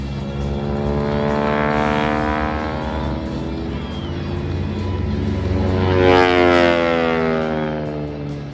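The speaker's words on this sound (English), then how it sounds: "The snarl of those big Pratt and Whitney R1340 radial engines" Pratt and Whitney R1340 radial engines on World War II advanced trainers snarl loudly at an airshow, a sustained rasping drone that rises and falls in pitch as the planes sweep past overhead.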